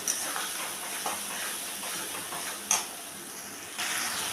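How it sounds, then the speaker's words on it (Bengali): Spice paste frying in a pan for a Bengali pumpkin chakka, a steady close hiss and sizzle with a few soft scraping stirs and brief louder spits. "তো মশলাটা আমার ভাজা হয়ে গেছে"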